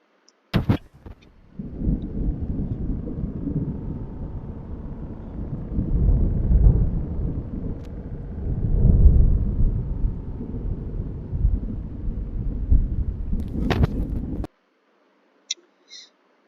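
Deep thunder rolls during a storm near a campsite, a long continuous low rumble that swells and fades for over ten seconds, loud and heavy, then cuts off abruptly.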